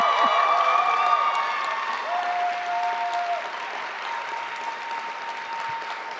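Audience applause at an LGBTQ+ education, law and policy panel, a sustained wash of clapping from a room crowd that starts strong and slowly thins over several seconds, with a faint voice and a few scattered cheers.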